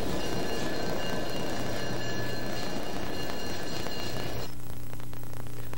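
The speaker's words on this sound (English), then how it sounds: "Locomotive 8223 was built in 1950 by American Locomotive Works in Schenectady, New York." ALCO RS3 diesel road switcher locomotive 8223, a 1,600 horsepower unit built in 1950, running with a steady loud rumbling drone and engine hum that drops away sharply near the end, no voices.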